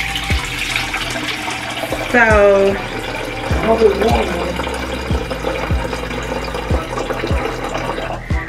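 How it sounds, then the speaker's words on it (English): Water is poured into a container to make Kool-Aid pink lemonade. A brief rising filling tone sounds near the start, and a person talks over it and the kitchen noise that follows. "I'm gonna pour my water first."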